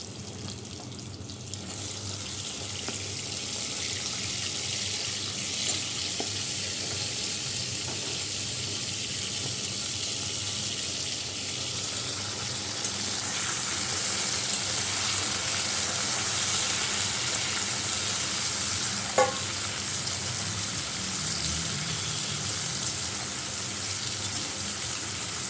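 Chunks of taro root fry in a pan, giving a steady, close sizzling hiss throughout that swells a little past the midpoint, with a faint stir or scrape now and then and no voices.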